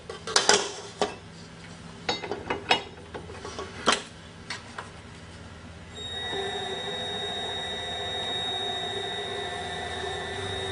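Pâte sucrée dough being worked by sablage in a bowl: scattered clinks and scrapes at first, then a steady mechanical whir with a high whine that runs on to the end.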